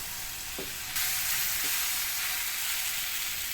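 Boiled baby potatoes being stirred into gravy in a pan, a steady loud sizzling hiss that swells after a couple of soft scrapes at the start.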